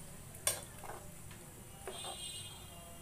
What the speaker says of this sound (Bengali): এবার আমি দিয়ে দিচ্ছি 4টা কাঁচা লঙ্কা, এটা দিয়ে আবার একটু নাড়াচাড়া করে দেবো